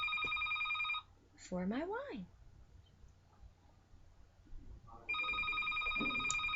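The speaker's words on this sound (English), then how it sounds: "And there goes my phone." A telephone rings indoors in two loud electronic trill bursts, one at the start and another near the end, with someone speaking quietly between them.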